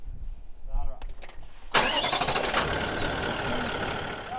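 A Toyota Troopy's engine cranks and catches with a sudden loud burst, then settles into a steady running rumble, preceded by a few quiet clicks and faint speech.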